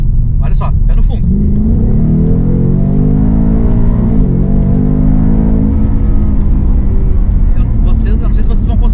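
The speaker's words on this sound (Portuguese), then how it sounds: "O carro acelera muito. Olha só, pé no fundo." A Ford Mustang Mach 1 V8 accelerates at full throttle from inside the cabin, its engine roaring loudly and climbing in pitch, briefly dipping at a gear change before rising again, with a voice speaking over it.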